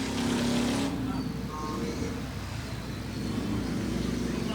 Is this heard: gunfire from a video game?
no